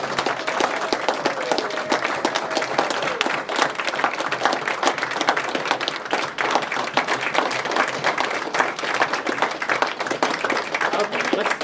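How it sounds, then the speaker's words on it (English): A small crowd claps continuously at a history wall unveiling, a thick, steady patter of many hands at close range that holds evenly from start to finish. "you can just clap. Just clap."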